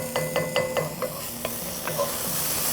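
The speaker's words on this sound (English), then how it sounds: "we got 1 tablespoon of minced garlic going in the pan with that diced onion" Minced garlic and diced onion sizzle in a pan while being stirred for a soup, with a soft steady frying hiss under a series of quick scraping stirs near the start and a few more later.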